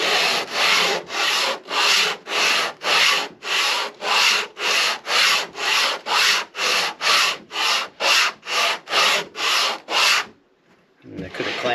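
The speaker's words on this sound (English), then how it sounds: "Now let's go ahead and sand this back. Only takes a second here on a nice flat sanding board." Steady, rhythmic back-and-forth rasping of a wooden guitar part being sanded on a flat sanding board, about twenty quick even strokes, close and loud, then stopping.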